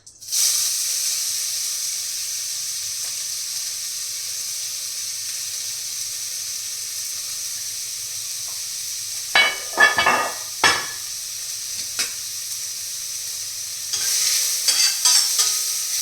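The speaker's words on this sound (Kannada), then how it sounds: "ಒಂದು ಸ್ಪೂನ್ ತುಪ್ಪ ಹಾಕಿ ಇದನ್ನು ಸೋರೆಕಾಯಿನ ಹಾಕಿಬಿಟ್ಟು ಫ್ರೈ ಮಾಡ್ಕೊಳ್ಳೋಣ" Chopped bottle gourd fries in a spoonful of ghee with a loud, steady close-up sizzle, broken by a few scraping stirs of a spoon against the pan midway and near the end.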